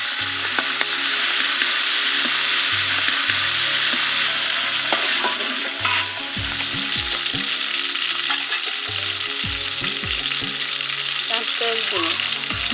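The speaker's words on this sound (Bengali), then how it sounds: "গরম তেলে আস্ত কাঁচামরিচ" Whole green chillies fry in hot oil with a steady, loud sizzle, some popping and bursting sharply, in a home kitchen while a dish of fish and arum root is prepared; a low rhythmic hum runs underneath.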